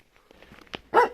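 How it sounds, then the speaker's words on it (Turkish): A dog barks once, fairly close and loud, in a rural village near houses with earth-plastered walls and a bridge, after faint background movement and soft noise. "bir tane köpeğimiz"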